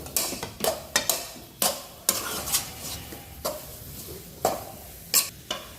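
Besan and coconut modak mixture with grated nutmeg and cardamom powder is stirred in a pan, giving sharp, irregular scrapes and knocks of a spoon against the metal, about a dozen strokes with a faint sizzle underneath.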